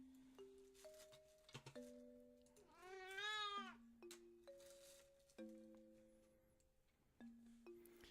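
A house cat meows once, a clear, drawn-out wavering call in the middle, against a quiet backdrop of soft electronic chime tones.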